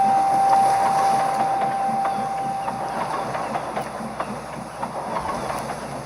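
A cartoon train in Thomas and Friends rumbles steadily along the rails with faint rhythmic clatter and a soft whistle-like tone early on, continuous and moderately close.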